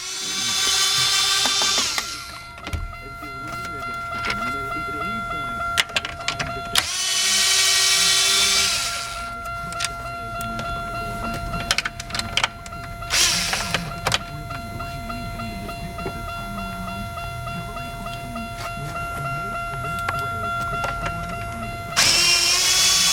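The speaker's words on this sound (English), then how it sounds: "We're going to remove 4 7mm screws around the edges." A power driver whirs in repeated short bursts, backing out 7mm screws from the edges of a Buick Century instrument cluster, each burst a loud high whine separated by pauses and small clicks of handling.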